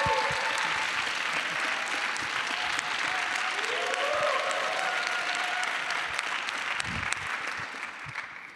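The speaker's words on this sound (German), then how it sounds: "Vielleicht bitte noch einen Applaus." An audience applauds at an entrepreneurship summit, with dense, sustained clapping from a large crowd that carries on steadily and thins out near the end, while a voice briefly sounds beneath it.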